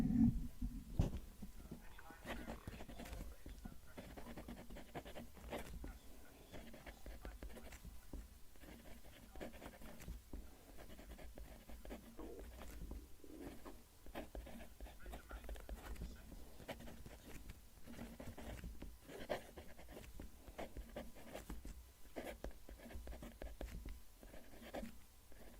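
A fountain pen writes a sentence on paper close to the microphone, a faint continuous scratching of nib strokes with small pauses between words, quiet and steady.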